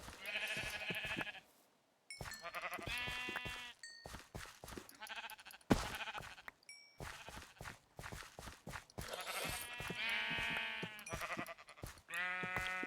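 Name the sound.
sheep bleating in the video game Minecraft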